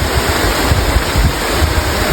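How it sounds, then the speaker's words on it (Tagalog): Heavy rain with little wind pours down in a steady, dense hiss with a low rumble underneath, continuous and unbroken, with no voices. "Lakas ng ulan dito, buti walang masyadong hangin."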